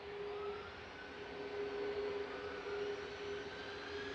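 An Iberia airliner departing for Madrid accelerates down the runway on takeoff, a steady, fairly distant engine roar with a sustained whine holding level for several seconds.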